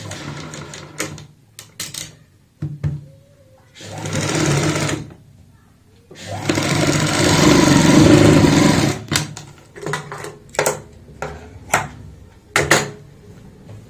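A sewing machine stitching pleats on a palazzo runs in bursts, one short and one long steady whirring run, then a string of brief stitch clatters, with a voice talking in between.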